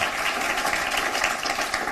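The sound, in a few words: audience applause welcoming poet Anamika Walia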